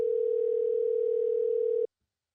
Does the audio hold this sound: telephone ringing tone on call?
yes